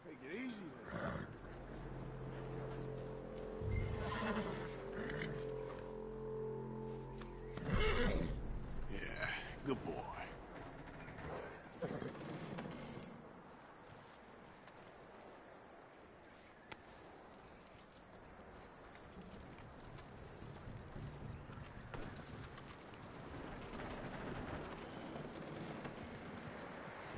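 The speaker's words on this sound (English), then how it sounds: "That looks like a decent horse." A horse in Red Dead Redemption clip-clops along at a steady walking beat, its hoofbeats clear under game music and talking voices, with a faint neigh among them.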